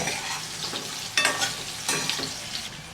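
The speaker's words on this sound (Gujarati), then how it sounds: "એકદમ આ તેલમાં સાતડી લેવાનું" Dhokla pieces sauté in hot oil in a pan over medium heat, a continuous close sizzle broken by two or three louder scraping stirs, with no voices.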